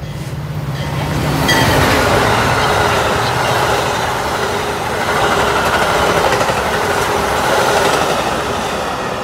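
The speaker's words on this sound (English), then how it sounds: "SF train number 1272 to Chicago Union Station is now arriving." A Metra commuter train rumbles past at Fairview Ave, a loud sustained roar with rhythmic wheel clatter swelling in after a second and holding to the end, no voices.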